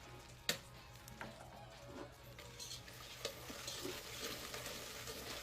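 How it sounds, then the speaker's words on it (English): A whisk works through caramel sauce in a pan, making faint rapid scraping and light metallic ticks that build gradually, with a sharper clink near the start and a gentle sizzle underneath. "Okay, I'm whisking in the rest."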